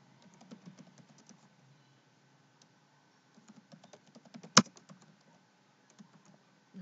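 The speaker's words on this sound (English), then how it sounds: "So I'm going to type in the name." Quiet typing on a computer keyboard, a patter of soft key presses in short bursts with a pause midway and a few sharper clicks toward the end, alone without speech.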